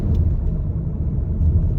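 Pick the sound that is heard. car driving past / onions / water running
car driving past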